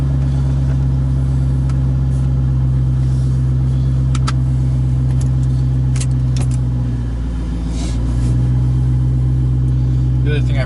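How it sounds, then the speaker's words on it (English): A 2006 Ford Mustang GT with a Borla ATAK exhaust idling loudly after a cold start, a deep steady rumble close by with a brief dip in revs partway through. "a bit of a cold start up now."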